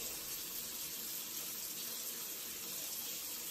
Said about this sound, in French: Je prends un peu d'eau.